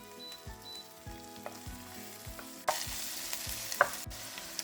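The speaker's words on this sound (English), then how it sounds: "Now that the pan with olive oil is preheated, it's ready to accept the onions for sauté." Onions sautéing in preheated olive oil in a pan for lemon chicken tagine, a quiet crackling sizzle that swells abruptly louder midway, with a couple of faint clinks and no speech.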